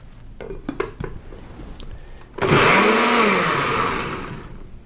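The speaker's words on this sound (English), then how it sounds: "Just an ordinary kitchen blender is all you need." An ordinary kitchen blender whirs loudly through a parsley green drink with water, starting with a few clinks and knocks before the motor kicks in and runs steadily for a couple of seconds.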